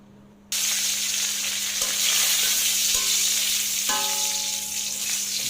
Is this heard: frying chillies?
yes